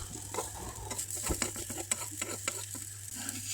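Tuna and egg patties sizzle in a non-stick pan, a steady close frying hiss broken by scraping spatula strokes and light clinks of utensil against the pan.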